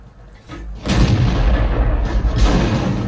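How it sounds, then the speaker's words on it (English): A heavy tank cannon shot in World of Tanks, fired from a Jagdtiger 8.8: a deep booming blast at about one second that keeps rumbling loudly, with a second swell of noise later. "And another shot right there"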